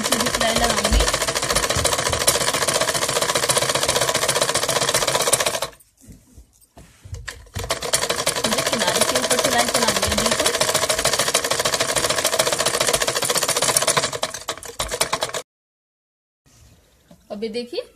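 A sewing machine running a straight stitch along a salwar hem, a fast, even mechanical clatter in two long bursts with a pause between them and a short restart at the end. Someone speaks during the pauses.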